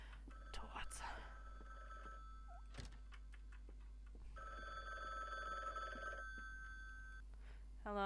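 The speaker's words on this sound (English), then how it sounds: "His phone's ringing." A phone rings in The Bookwalker: Thief of Tales video game, with repeated tonal bursts at moderate level, mixed with game ambience and clicks before a voice answers at the end.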